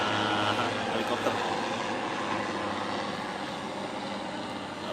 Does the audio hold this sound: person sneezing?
no